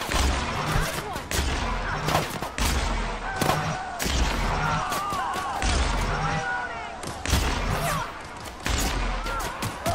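Gunfire in the video game The Outer Worlds comes as repeated loud, sharp shots in quick bursts across the stretch, with metallic impacts and a voice talking between them.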